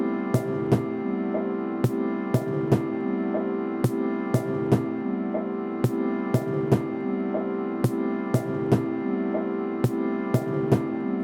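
A repetitive electronic groove from an Elektron Digitone FM synth: sustained synth tones with regularly spaced sharp drum hits looping in a steady, even rhythm.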